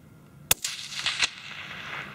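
A single sharp crack from a .17 HMR rifle fired at a rabbit about 175 yards away, followed by a brief echoing tail and faint outdoor rustle.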